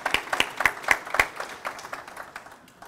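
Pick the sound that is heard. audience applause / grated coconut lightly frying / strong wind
audience applause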